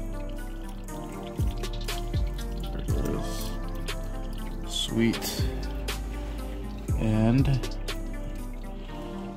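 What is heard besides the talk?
engine oil dripping from car drain during oil change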